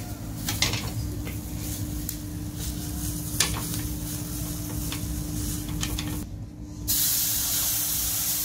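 Besan flatbread frying in a generous amount of oil in a pan, a steady close hiss with a few sharp crackles and a brief louder surge near the end, with no talking.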